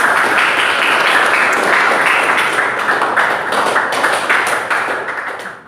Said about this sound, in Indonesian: betul sekali, tepuk tangan buat Tegar ya.